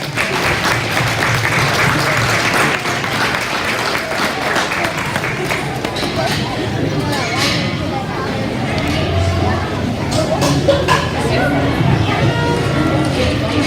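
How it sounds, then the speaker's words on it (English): At a lamb and goat livestock show, the crowd gives loud, sustained applause for about fourteen seconds. The clapping stays steady throughout, with faint chatter mixed in. "let's give him a round of applause for doing that"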